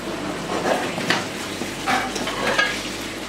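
Spices being toasted in a hot pan with cinnamon in the mix, a soft steady sizzle with scraping and stirring sounds and a few light utensil clinks, all close and moderately quiet.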